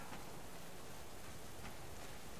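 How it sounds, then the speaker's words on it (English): Rain falls steadily in the video game Subsistence, a dense, even hiss of downpour with no gaps or talk. "I'm going to trek through this rain and head over"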